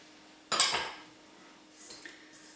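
A spoon stirring instant yeast into hot cross bun dough in a bowl, a short loud clinking scrape followed by a fainter clink a second later.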